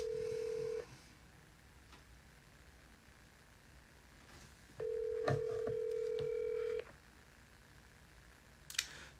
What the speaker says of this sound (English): she's not picking up the phone